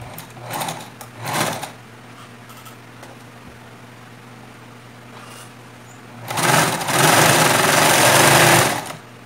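A sewing machine runs in a few short bursts and then one longer loud run, stitching a tulle skirt with a wide stitch; the motor whirs close by with quiet gaps between bursts and no talking.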